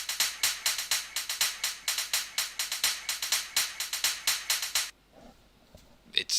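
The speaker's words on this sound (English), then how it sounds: "It's yeah, the kind of slightly clicky hat with all that kind of compression and other stuff" Clicky, heavily compressed hi-hats from a remix tick in a fast, steady run for about five seconds, then stop, leaving near silence with a couple of faint soft hits.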